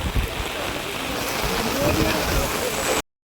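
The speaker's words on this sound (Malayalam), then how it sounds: "ഒരു രക്ഷയില്ലാത്ത മഴ പെയ്തുകൊണ്ടിരിക്കുന്നു" Dense, steady rushing of heavy rain fills the clip, a constant wash of noise that cuts off abruptly at the end.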